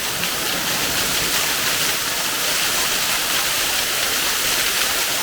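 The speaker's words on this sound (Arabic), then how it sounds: "أول مرة نعوم معناها في شلال نتاع ماء هابط من الجبل" A waterfall of water plunging down from a mountain at a hidden oasis in Tunisia, a steady, loud, broadband rushing roar that holds constant without a break.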